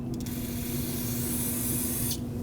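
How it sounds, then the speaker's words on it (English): Brake parts cleaner sprays onto the brake caliper of a 2009-2015 Honda Pilot in one continuous, loud, close aerosol hiss that stops near the end of the clip. "I'm going to use some brake parts cleaner to rinse this off."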